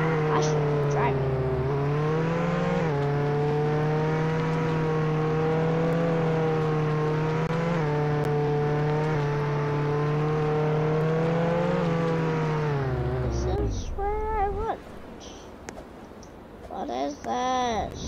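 Steady engine drone of a car driven in the Roblox game Jailbreak, holding a continuous hum for about thirteen seconds before cutting out, followed by brief scattered game sounds.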